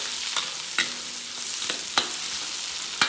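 Garlic, onion and chorizo sauté in a pan for pancit bihon, a steady bright sizzle broken by regular scraping stirs about every second, close and with no talking.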